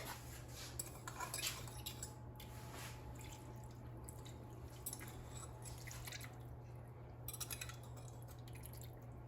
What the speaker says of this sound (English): So now I'm going to pour approximately half of the marinade over the beef.